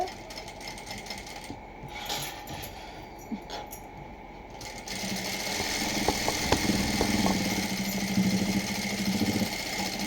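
After a few quiet seconds, a sewing machine starts up close and runs in a steady mechanical whir, stitching a seam to the edge of a plain blouse.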